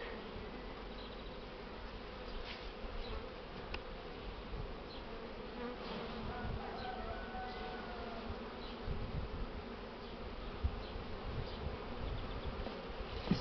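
Honey bees buzz in a dense, continuous drone as frames are shaken into a neighbouring hive, a loud close swarm sound with no voices.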